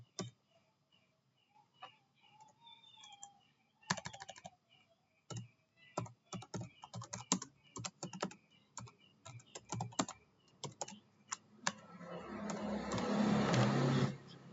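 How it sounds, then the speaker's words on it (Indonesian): Program code being typed on a computer keyboard, bursts of fast, close keystrokes with short pauses, followed by a louder rising mechanical whir near the end. "Ini saya ketikkan ini ya kodenya."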